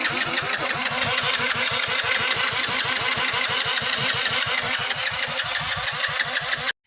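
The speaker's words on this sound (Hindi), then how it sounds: "इस बाइक के अंदर अगर मैं इसको बंद भी कर दूं तो इसके अंदर ट्रैक्टर जैसी साउंड आने लग जाती है" A Hero HF Deluxe motorcycle engine runs with a rough, tractor-like chugging, a steady rapid train of heavy thumping pulses, loud and close with no talk over it.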